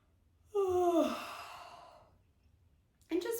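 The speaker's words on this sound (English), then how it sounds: "We're going to breathe in and yawn." A person lying in bed during a gentle rehabilitation yoga session lets out a long, drawn-out yawn that trails off into a slow exhale, then begins another yawn after a short pause; soft and close, with no other sounds.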